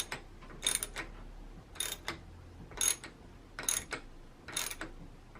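Socket wrench removing the top cap of a Manitou Dorado damper leg, five quick bursts of ratcheting clicks at roughly one second intervals, close and clear with quiet gaps between.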